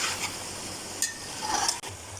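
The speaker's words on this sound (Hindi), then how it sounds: "अब इसको सिर्फ 5 मिनट 10 मिनट भूनना है हमने।" Mutton is stir-fried in a pot for bhuna, a soft steady sizzle with scraping stirs and a few light clinks of a spoon against the pot, close and fairly quiet.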